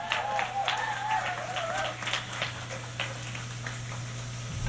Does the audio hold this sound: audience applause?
yes